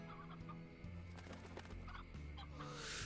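Stony chickens in the Slime Rancher video game clucking softly in short, scattered calls over a low steady game hum, with no talk.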